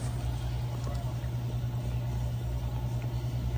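An LG front load washer drum spins with a steady, droning low hum and a constant mechanical whir, unbroken throughout.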